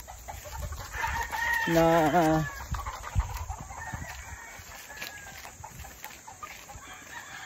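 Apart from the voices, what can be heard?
chickens and roosters at breeding farm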